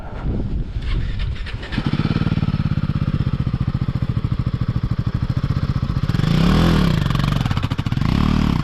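A loud tractor engine sputters, then settles into a steady, chugging idle close by, with a brief surge in revs near the end.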